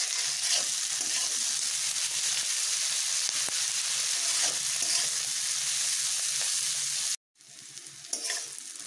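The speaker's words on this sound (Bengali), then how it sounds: "নুন মিশিয়ে এগুলোকে ভেজে নিচ্ছি।" Capsicum and onion fry in a pan with salt for chili chicken, a steady, loud sizzle with stirring scrapes running continuously, briefly cutting out before resuming more softly.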